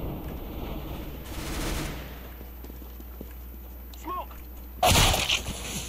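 Gunfire in the video game CS:GO, a couple of brief bursts of shots, one early and faint and a louder sharp burst near the end, over quiet background game ambience.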